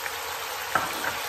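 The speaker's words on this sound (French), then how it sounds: "je vais rajouter le vinaigre de cidre" Cider vinegar hits a hot pan, giving a brief bright hiss over a steady sizzle of frying, close and moderately loud, with a second smaller splash-hiss moments later.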